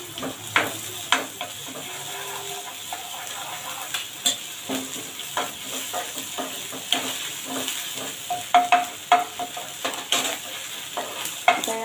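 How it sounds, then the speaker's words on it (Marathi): Onions frying in a pan as ginger-garlic paste goes in, a steady close sizzle with spatula scrapes and light clinks tapping through it at an irregular rhythm, no voices. "कांदा आपला चांगला भाजला जात आहे, त्यामध्ये मी थोडीशी आला लसूणची पेस्ट घालत आहे"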